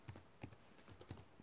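Typing on a computer keyboard, a quick scattered run of light key clicks close up, with soft irregular taps and brief pauses between them.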